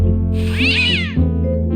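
A cartoon cat in the video game Day of the Tentacle lets out one loud, drawn-out meow with a rising and falling wail over a steady synth music bed.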